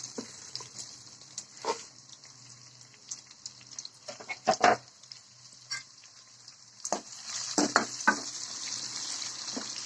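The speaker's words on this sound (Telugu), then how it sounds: "పచ్చిమిర్చి, ఉల్లిపాయలు వేసి కొద్దిగా ఫ్రై చేసుకోవాలండి" Onions and green chillies frying in a pan after the tempering, a quiet steady hiss broken by several louder clattering stirs and scrapes of a spoon, no talking.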